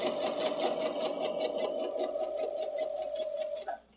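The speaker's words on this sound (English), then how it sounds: "So I'm gonna go ahead and stitch a little bit this stitch length." A sewing machine stitches at a medium 2.5 stitch length with a fast, even mechanical whir and rapid rhythmic ticking, running steadily close by before stopping abruptly near the end.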